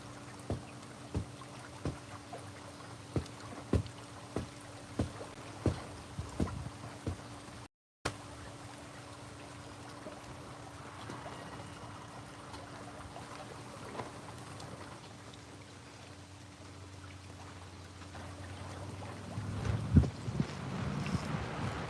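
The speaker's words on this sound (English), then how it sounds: "the wind blew that right out" Wind gusting outdoors beside a backyard pool, a steady rushing that builds and grows louder toward the end, with scattered light knocks and taps in the first half and no talking.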